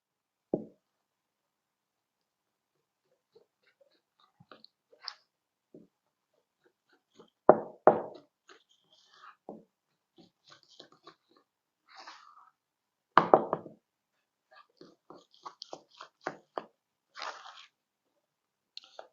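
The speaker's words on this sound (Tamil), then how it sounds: "இப்போ வந்து நான் இதை மிக்ஸ் பண்ணி காட்டுறேன்" A spoon mixes vegetable cake mixture in a bowl, giving sparse, irregular knocks and scraping clacks with quiet gaps between them, a few louder strikes, and a busier patch near the end.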